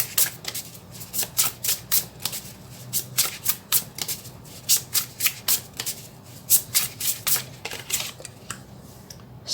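Tarot cards are shuffled close up in a fast run of crisp riffling bursts that repeat in an even rhythm, loud and alone with no voices.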